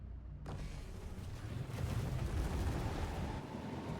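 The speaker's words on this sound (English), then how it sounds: "Some awkward starts. Explosions everywhere. Over half the lobby dies, crashes, explodes." Explosions and crashes from a racing video game erupt after a brief silence into a dense, low rumbling barrage that stays fairly quiet and continuous for a few seconds.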